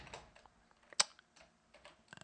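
Keys tapped on a computer keyboard, a few scattered soft clicks with one sharper keystroke near the middle, close and quiet with no talk.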